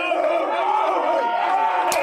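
Crowd noise at a high school baseball game on senior night at Long Beach, with a steady murmur of many voices and a brief sharper cheer near the end.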